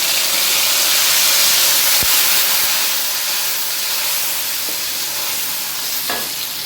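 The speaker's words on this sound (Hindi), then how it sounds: "लहसुन हमारा ब्राउन हो गया, अब इसमें टमाटर और मिर्चों का पेस्ट बनाया था वो डालेंगे।" Tomato and chili paste sizzles steadily in hot ghee with browned garlic in a kadai, a loud continuous frying hiss with a few faint stirring clinks.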